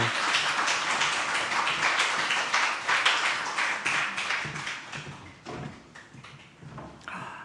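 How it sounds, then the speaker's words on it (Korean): A church congregation applauding a guest speaker, dense rapid clapping that holds steady and then thins out and fades toward the end. "큰 따뜻한 박수로 우리 환영하도록 하겠습니다."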